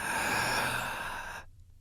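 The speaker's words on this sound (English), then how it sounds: "For 2 minutes, I want you to take deep breaths." Long, deep breath drawn and let out steadily, a soft airy rush that fades into near silence toward the end, with no talking.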